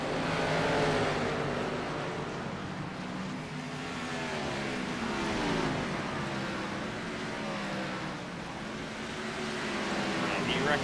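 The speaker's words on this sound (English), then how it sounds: "Big gaggle of cars here down the front stretch in the 1 and 2." A big pack of simulated NASCAR Xfinity stock cars roars down the front stretch at USA Speedway in iRacing, a dense, continuous engine drone rising and falling under a commentator's voice.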